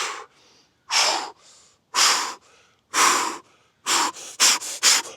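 Heavy, forceful breaths during a strenuous muscular effort exercise: a series of loud, harsh exhalations about once a second, with quieter inhales between, speeding into quick bursts near the end; no talking.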